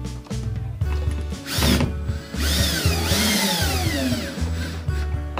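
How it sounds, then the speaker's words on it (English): A power drill driving screws while a window treatment is mounted, with several loud, close bursts of whirring motor and ratcheting clutch separated by short pauses, no voices. "place my screws in here and drive it in"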